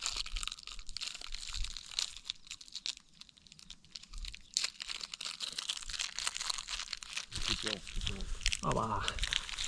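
An animal crunches and chews candies, with close crinkling and crackling bites scattered through the clip and a person talking briefly near the end.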